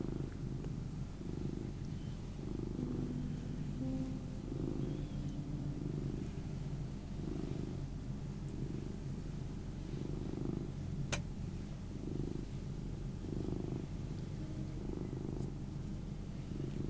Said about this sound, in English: Yes, Mr. Therapy Kitty. Such soft, relaxing fur to pet.